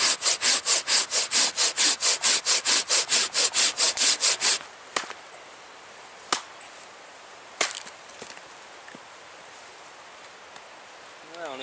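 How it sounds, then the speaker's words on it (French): A hand saw cuts through a dry wood log outdoors in freezing winter bushcraft conditions, a fast, even run of loud rasping strokes, then stopping, followed by a few sharp knocks and cracks of wood in quiet surroundings. "je vais venir couper ici avec la scie, faire une petite bûche"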